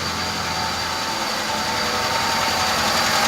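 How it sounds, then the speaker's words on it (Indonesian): A Hyundai Atos engine running steadily at the front, revved by hand via the throttle cable, giving a constant, loud mechanical drone that rises slightly toward the end, with no one speaking. "kita juga bisa menarik gas dengan cara menarik kabel yang ada di bagian"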